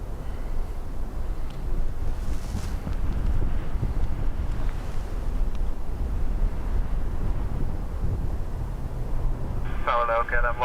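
Steady, heavy wind buffeting an outdoor microphone at Dublin Airport, a continuous low roar throughout, with a brief beeping electronic tone near the end.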